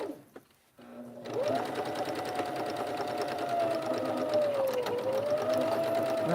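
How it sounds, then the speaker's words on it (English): Sewing machine back stitching kitchen curtain fabric: a steady, close motor whir that starts after a brief quiet moment and runs unbroken, with a slight dip in pitch partway through. "I did my back stitch"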